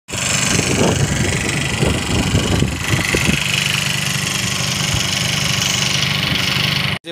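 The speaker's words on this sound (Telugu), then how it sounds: "మళ్ళీ మోటార్ వేసుకుని పడ్డాం." A household water pump motor starts again after the supply runs dry, giving a loud, steady mechanical hum with brief clattering and a possible voice early on, then an even drone until it cuts off.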